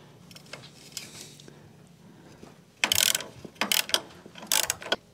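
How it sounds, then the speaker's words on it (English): Box end wrench ratcheting on a nut at a Harley-Davidson frame-mounted highway foot peg mount, with three loud bursts of metallic clicking in the second half after quieter handling noise. "You want to use the 9/16 box end wrench on the nut on the back here."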